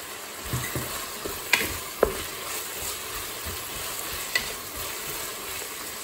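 Carrots go into a hot, sizzling pan in a Cookeo pressure cooker, giving a steady frying hiss broken by a few sharp clinks and scraping stirs, close and fairly loud.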